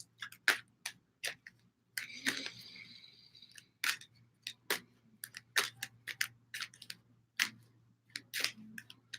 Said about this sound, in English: And as we think of Amy, we're going to shuffle them up a little bit.